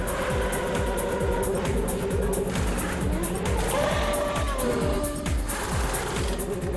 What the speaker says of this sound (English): Into the pits comes Oliver Jarvis for Team GBR, the first of 2 pit stops